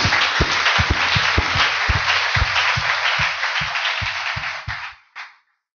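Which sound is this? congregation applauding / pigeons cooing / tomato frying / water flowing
congregation applauding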